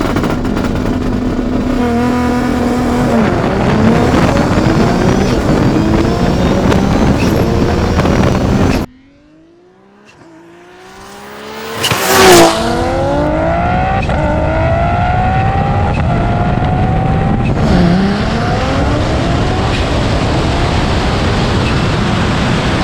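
An 1100hp all-wheel-drive R32 Nissan Skyline GT-R street car accelerates hard, its engine roaring loud and close with rising gear sweeps, dropping off briefly before pulling hard again.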